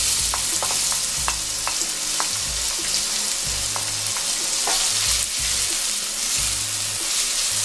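Onion hitting very hot oil in a pot for coconut curry shrimp, a steady loud sizzle with repeated scraping and knocking as it is stirred, close-up and continuous with no speech.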